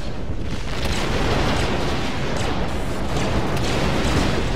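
A destroyed ship explodes in Star Wars Battlefront, heard as a loud, continuous roaring blast with rumbling debris that holds steady and dense throughout, close and filling the whole clip.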